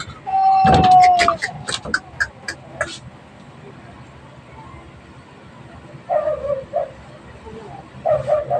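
A dog barks in a few quick sharp yaps near the start, then gives softer whining whimpers later, with background voices and rustling at a moderate distance.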